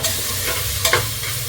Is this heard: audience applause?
no